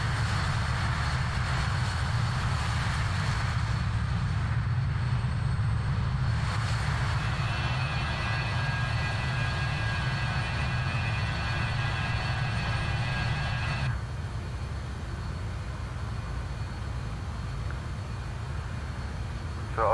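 The jet engines of a BAe146 airliner in Microsoft Flight Simulator hold a loud, steady roar as the aircraft picks up speed, dipping slightly partway through and then continuing unbroken.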